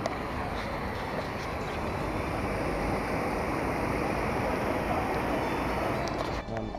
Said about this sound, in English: Sorry for the noise in the background. I'm currently in the train ride